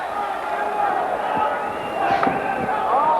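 A boxing arena crowd getting loud and excited between rounds of a 1984 bout, a steady roar of cheers, whistles and shouts filling the hall, with bits of announcer talk over it.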